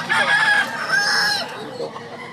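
A fighting rooster at a gamecock sale in Lipa, Batangas crows loudly and close, one long drawn-out call followed by a few softer clucks.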